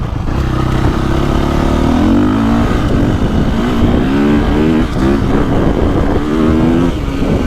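A KTM 450 Factory Edition motorcycle accelerating hard, its loud engine note rising and falling through revs, close and continuous with no voices over it.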